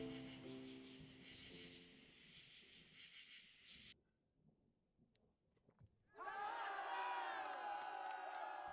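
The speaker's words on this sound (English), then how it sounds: "Why are you cheering? You didn't give anything." A game crowd in Sainthood cheers and whoops for several seconds, then drops to near silence before brighter music-like tones rise.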